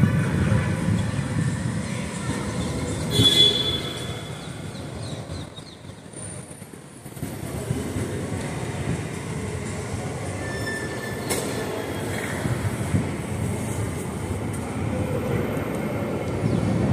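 The Gandhinagar Capital intercity train rolls into platform 1 at the station with a continuous loud rumble of wheels and carriages. There are high squeals and clanks from the rails and a brief dip in the noise midway.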